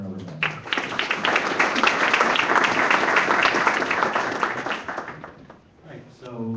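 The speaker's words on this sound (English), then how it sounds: "let's give them all a round of applause" An audience at a healthcare tech panel event in Chicago applauds, a dense burst of clapping that swells quickly, holds steady for several seconds and then tapers off, with voices just before and after.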